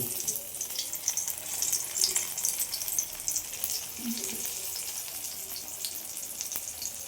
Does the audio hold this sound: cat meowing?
no